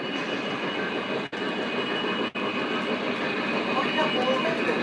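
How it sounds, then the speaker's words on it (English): MTH model tank train with tank cars running on a track, giving a continuous rumbling roll with two brief dropouts and no talk. "I decided to run it with a tank train today."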